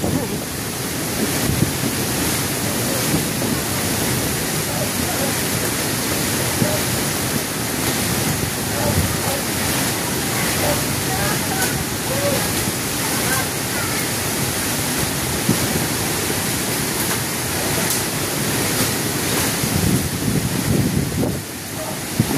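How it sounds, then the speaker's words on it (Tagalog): Strong wind roars in a broad, constant rush close to the microphone, buffeting without pause through the whole stretch, with faint voices buried beneath. "Ang lakas ng hangin."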